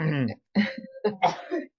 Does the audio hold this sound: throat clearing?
yes